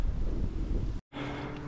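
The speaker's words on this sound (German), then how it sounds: "Der Wind macht es gerade ein bisschen hart." Strong wind buffets the microphone while cycling uphill on a mountain road in the Alps, a dense rushing roar that cuts out briefly before resuming slightly softer.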